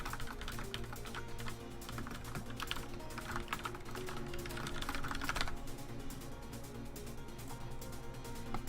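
Steady close keystrokes on a computer keyboard, a continuous patter of clicks with a constant low hum underneath throughout.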